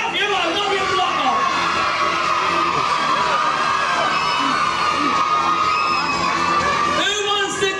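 A holiday park audience at Haven Primrose Valley cheers, shouts and whoops loudly and continuously, with children's voices prominent and a host's voice cutting in near the end.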